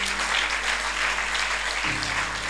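A worship congregation bursts into sustained applause, dense continuous clapping at an even level, with a low hum beneath and a sustained note shifting near the end.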